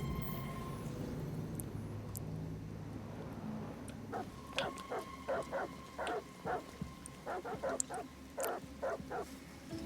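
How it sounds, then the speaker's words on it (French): Dogs in the video game Detroit: Become Human bark repeatedly, with a rapid series of sharp barks and yips starting after a few seconds of low ambient hum. The barking sounds fairly distant and moderately loud. "ils aboient encore"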